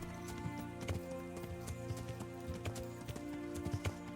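A horse gallops in the video game Kingdom Come: Deliverance, its hooves striking in a quick, steady clip-clop rhythm, fairly soft and close with a faint ambient bed behind.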